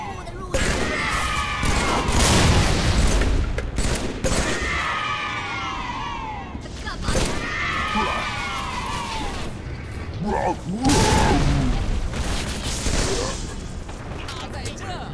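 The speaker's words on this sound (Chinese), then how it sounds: "我们用无柄步枪做掉他们。" Bursts of rifle fire in the Halo 3 video game, repeated loud volleys mixed with explosions and mechanical clatter, with voices talking over the combat throughout.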